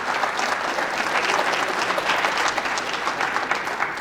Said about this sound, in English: I want to give a round of applause to them for the academic piece and the teachers